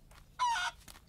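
A chicken in the farm-and-car-restoration video game Barn Finders gives a single short, bright clucking squawk, fairly close and clear over a quiet background.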